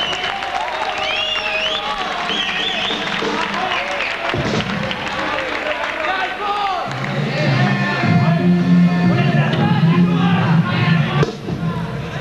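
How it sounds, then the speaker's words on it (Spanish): A live audience at a rock concert applauds and cheers in a sustained crowd wash, with whoops and scattered voices, while instruments start up over it toward the end. "les pido un fuerte aplauso porque es la primera vez que tocan en vivo"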